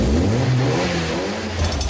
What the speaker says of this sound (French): C'est au tour des Blue Bombers de tester leur moteur.